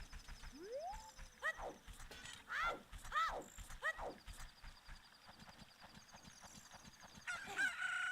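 Chickens from Ocarina of Time cluck and squawk in a game scene, several short rising calls in bursts over a steady backdrop of game music and ambient tones.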